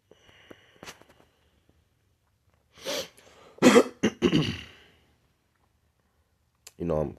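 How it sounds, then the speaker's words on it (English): A person coughs and clears their throat in several harsh, close bursts separated by quiet pauses, with a few small clicks and a sniff. "I'm coughing all of a sudden."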